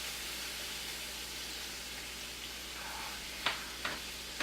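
Sunday sauce with sausage sizzling in a frying pan, a steady soft hiss of frying with a few faint clinks near the end.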